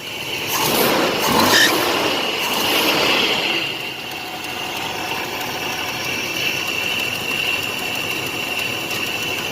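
A 1987 Nissan Pathfinder VG30i engine runs at a smooth idle after a Weber carburetor conversion, a steady close mechanical hum with a few louder clanks and rattles early on, then settling into an even drone.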